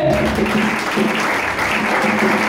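A church congregation applauds, a dense steady clapping that fills the room throughout.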